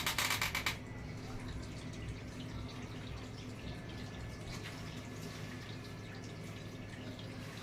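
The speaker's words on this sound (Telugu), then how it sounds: "ఇప్పుడు వాటర్ అందులోకి వెళ్తున్నాయి" Water runs steadily into the tank of a digital automatic water purifier, a continuous rushing flow after a brief clatter at the start, with a low mechanical hum underneath.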